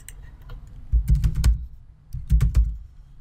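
Typing on a computer keyboard while entering a console command, two short bursts of several quick key clicks separated by a brief pause, close and crisp in a quiet room.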